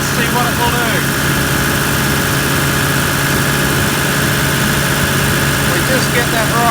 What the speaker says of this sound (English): We've got the engine at 2000 RPM, typical cruising speed.